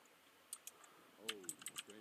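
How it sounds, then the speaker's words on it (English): Quiet, fairly close typing on a computer keyboard: scattered sharp key clicks in a short irregular run, with a faint murmur of voice underneath. "Here he is typing away, looking something up,"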